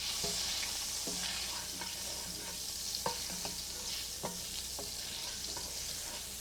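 Olive oil heats in a pan ahead of sautéing vegetables, giving a steady soft sizzle with scattered light clicks and taps of a utensil against the pan.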